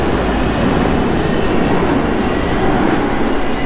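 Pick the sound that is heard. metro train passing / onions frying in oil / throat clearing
metro train passing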